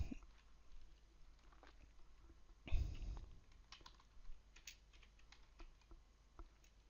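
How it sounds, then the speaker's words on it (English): Keys tapped on a computer keyboard while entering a terminal command during a Kali Linux session, soft irregular clicks near and fairly quiet, with one louder bump midway, no talking. "It's time now to type this command."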